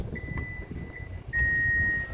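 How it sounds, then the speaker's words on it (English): Thin electronic beeps from a 2021 Toyota Sienna's power liftgate close-and-lock button sound over a low rumbling background: a few short chirps, then one longer sustained tone, fairly close and steady. "You'll hear 2 different types of beeps, and then it's going to close."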